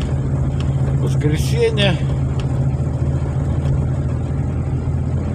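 A car on a village road in a Belarusian village near the Lithuanian border makes a steady, fairly loud engine rumble that stays level throughout, while a person briefly speaks over it.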